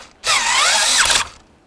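A power driver runs a screw into a Dodge Ram tow mirror mount, one steady high whirring burst of about a second, close and loud, with a short drop in pitch near the end.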